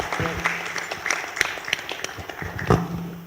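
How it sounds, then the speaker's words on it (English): An audience at an international mayors' forum gives a round of clapping, a scattered patter of individual claps rising and falling without talk over it. "Let's give them a big round of applause"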